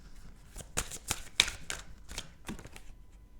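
A card is drawn from a deck in a run of close, crisp papery flicks and slaps, several sharp card snaps in a loose rhythm with brief gaps.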